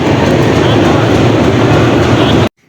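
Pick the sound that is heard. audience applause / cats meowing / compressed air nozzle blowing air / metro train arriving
metro train arriving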